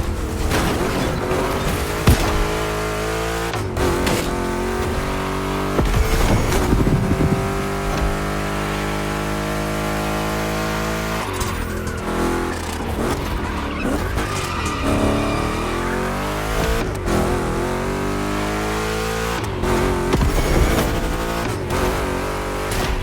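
Two Chevrolet big-block race cars in The Crew Motorfest gymkhana event, engines roaring and revving loudly through gear changes with tire squeal and skids, continuous and close.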